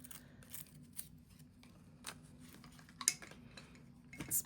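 Edge of salvaged decorative stationery paper, reused from an envelope, being roughed up by hand: quiet, intermittent short scratchy scrapes and ticks separated by near-silence, close by, with no talking.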